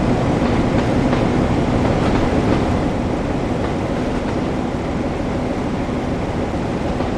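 A Class 09 diesel shunting locomotive in Train Sim World 3 on the West Somerset Railway rumbles steadily with a low engine drone and faint rail clatter, loud and continuous.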